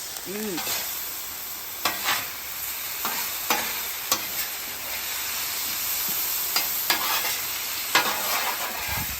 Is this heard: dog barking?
no